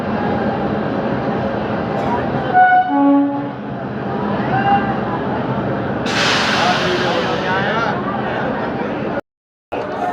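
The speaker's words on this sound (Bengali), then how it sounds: "অমৃতসর দেহরাদুন এক্সপ্রেস আসছে।" The Amritsar Dehradun Express arrives at a station, sounding a short series of horn blasts early on amid continuous rail rumble and nearby voices, followed by a brief hiss.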